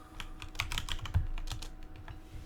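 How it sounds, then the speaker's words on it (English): Rapid, uneven clatter of fingers typing on a computer keyboard to enter a data set name in RStudio, close and clear for a couple of seconds with no talking. "and just type in the name of the data set."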